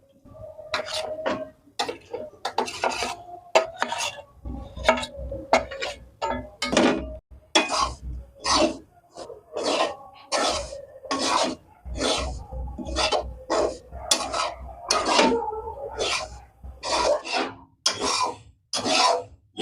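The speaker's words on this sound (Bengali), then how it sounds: "প্রথমেই আমি চালের গুঁড়োটাকে একটা কড়াইয়ে হালকা করে টেলে নেব।" Rice flour is dry-roasted and stirred in a wok, with repeated scraping, rasping strokes of a spatula against the pan in an uneven rhythm, close and fairly loud with short pauses between strokes.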